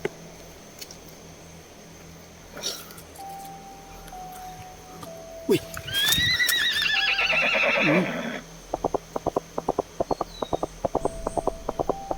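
A horse neighs loudly with a long, wavering whinny, followed by a run of sharp hoof clip-clops, amid outdoor ambience with faint bird chirps.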